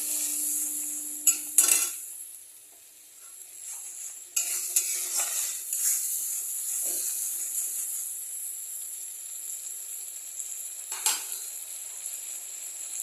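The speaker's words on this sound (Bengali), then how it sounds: "মশলাটাকে একটু 1-2 মিনিট একটু কষিয়ে নেব।" Spice masala for chicken sizzles and fries in a pan while a metal spatula scrapes and clinks against it in bursts. Steady, close frying fills the gaps between strokes, and no one speaks.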